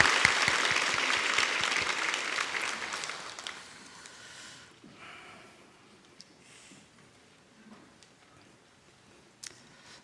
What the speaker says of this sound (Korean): 죽으시고 부활하셔서 오늘 이 자리에 우리와 함께 하시는 주님께 감사와 영광의 박수